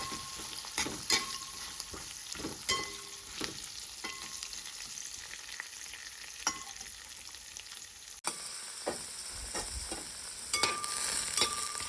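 Moringa drumstick pieces fry in a pan, giving a soft continuous sizzle with frequent spatula scrapes and taps as they are stirred, with no speech.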